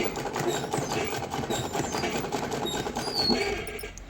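A sewing machine runs steadily throughout, stitching the collar of a boys' night suit with an even, continuous mechanical hum up close.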